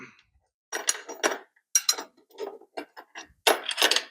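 A bolt is worked through a pannier frame bracket on a BMW R1300GS motorcycle, giving a series of short, close metallic clicks and scrapes in irregular bursts with brief pauses between.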